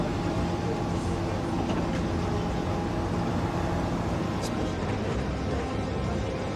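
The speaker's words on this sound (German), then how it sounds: "bis der Zug die Endstelle in Groß-Gerus erreicht hat" A train runs through Austria's Waldviertel region on its way to its terminus at Groß-Gerungs, a steady, loud, unbroken rumble with no pauses.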